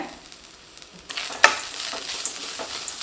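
Grated coconut for coconut rice sautéed and stirred in a pan, a soft sizzle with scraping stirs growing louder after the first second and a few sharper clinks.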